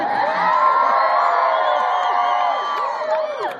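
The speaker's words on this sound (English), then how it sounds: "I wish he was here to hear you all scream for him like that." A large crowd at a marriage-equality gathering in Salt Lake City cheers and screams loudly, a dense wall of overlapping high-pitched whoops and shouts that fades slightly near the end.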